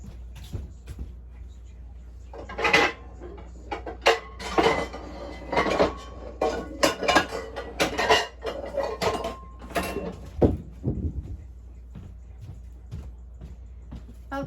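Ceramic bowls and dishes clatter and knock together in a kitchen while a bigger bowl is fetched for beer-battered haddock, a busy run of close, sharp clinks and thumps with speech mixed in.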